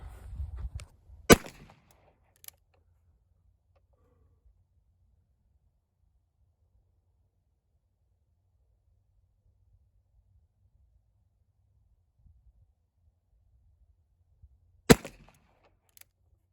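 Three sharp, loud shots from a Ruger Blackhawk revolver in .45 ACP/.45 Colt: two about a second apart, then a long quiet stretch before a third.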